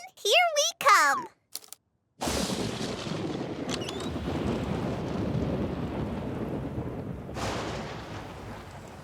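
Cartoon thunderstorm in a children's show: after brief high cartoon voices, a loud rumbling roll of thunder with heavy rain noise bursts in and sustains, swelling again near the end.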